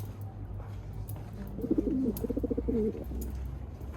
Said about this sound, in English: I also met my pigeon friend on these narrow streets